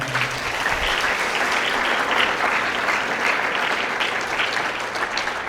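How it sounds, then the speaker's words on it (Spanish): Sustained applause from a church congregation during a Spanish-language sermon, a dense, steady wash of many hands clapping at even loudness throughout, with no speech over it. "dale un aplauso al Señor"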